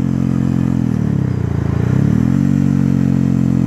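A Yamaha WRX 125 fitted with an Arrow exhaust rides along, its loud close engine drone holding steady, dipping and swelling briefly mid-way, then settling back to a constant rasping note.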